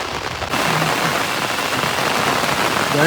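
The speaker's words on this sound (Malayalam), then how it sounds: "അത്യാവശ്യം നല്ല രീതിയിലുള്ള മഴ പെയ്തു തുടങ്ങി" Steady rain pours down at a village pond in Wayanad, a dense continuous hiss that swells in after a brief quieter moment and stays loud and even throughout.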